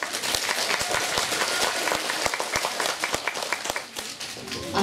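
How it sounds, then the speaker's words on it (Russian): An audience at a dolphinarium in Berdyansk, Ukraine, applauds a singer named Liza, with dense, sustained clapping from a crowd and a few sharper claps standing out near the listener. "Итак, аплодисменты Лизе!"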